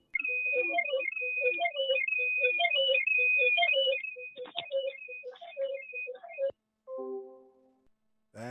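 A phone ringtone goes off during a Zoom call, a looping electronic melody repeating for several seconds, then stopping, followed by a few brief beeping tones, with no talk over it.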